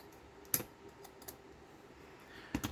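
Scissors trimming a paper window tag, with two crisp snips about two seconds apart and a fainter click between them, close and quiet in a still room.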